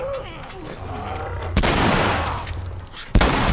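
Shotgun blasts in The Last of Us video game, two loud, close booming shots a couple of seconds apart, each leaving a rumbling tail, over quieter game ambience.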